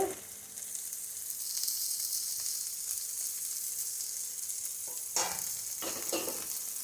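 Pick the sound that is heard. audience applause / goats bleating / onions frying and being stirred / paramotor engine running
onions frying and being stirred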